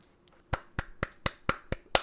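Slow, deliberate hand clapping: about seven sharp, evenly spaced claps, close and dry, in a quiet room with no talking.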